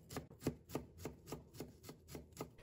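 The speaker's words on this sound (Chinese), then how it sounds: "再准备1块去皮的生姜，把它切成片， 再切成丝， 然后改刀切成姜末" A kitchen knife steadily mincing a piece of peeled fresh ginger on a cutting board, giving a close, even run of about ten crisp chops at a regular rhythm with no voices.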